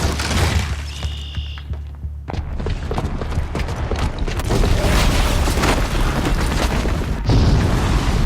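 A booby-trapped bomb blows up in Horizon Zero Dawn, a huge booming blast with shattering debris followed by a long rumbling, crackling roar of collapse and bursts, loud and close, with no voices over it.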